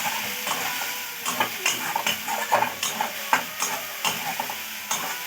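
Capsicum is stirred in a cooking pan for a cabbage and egg dish, with quick repeated scrapes and clinks in an uneven rhythm over a light sizzle, close and clear, with no voices.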